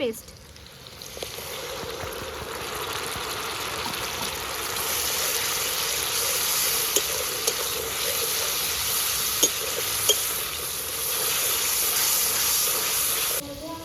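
Ginger, garlic, cumin, and green and dried chillies fry in a pan with a continuous close hiss and sizzle that swells slightly partway through, broken by a few faint clinks of stirring, and voices talk over it.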